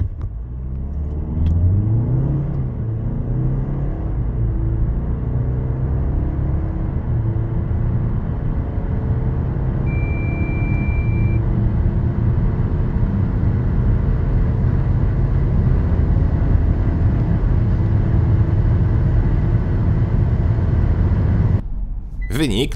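A Kia Sorento 2.2 CRDi AWD diesel launched from standstill at full throttle, its engine droning loudly and steadily with rising rumble for about twenty seconds before cutting off abruptly at the end.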